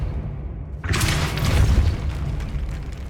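Depulso spell cast in Hogwarts Legacy: after a quiet moment, a sudden deep boom bursts out with a rushing blast and heavy low rumble that lingers and slowly fades.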